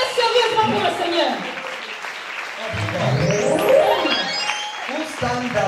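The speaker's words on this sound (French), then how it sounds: "Acclamez sérieusement pour le Seigneur." A church congregation bursts into applause and cheering for the Lord, a broad wash of clapping and crowd voices that rises and falls, heard under loud speaking and exclamations.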